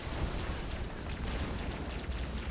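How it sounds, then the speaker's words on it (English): MAC cannon blasts from orbit in the sci-fi strategy game Halo Wars, heard as a rumbling, continuous explosive roar at moderate, even volume with no clear separate impacts. "Use some Mac cannon blasts"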